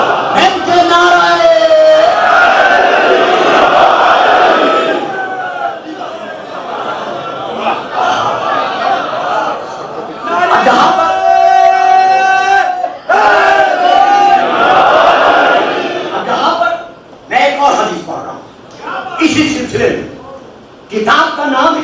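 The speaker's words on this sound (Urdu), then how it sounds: "ان کے نعرے۔" A mosque gathering in Lahore during Muharram, a large crowd shouting religious slogans in loud, rhythmic bursts of unison chanting, alternating with short pauses and a leading voice calling out.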